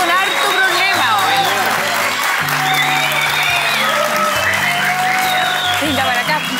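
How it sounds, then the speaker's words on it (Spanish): Studio audience applauding to welcome a guest onto a television talk show set, steady broadband clapping with a bright musical sting and voices over it throughout. "La saludamos y la recibimos con aplauso"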